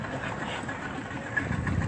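A boat motor runs steadily at a low, even drone, fairly faint and continuous, with no talk over it.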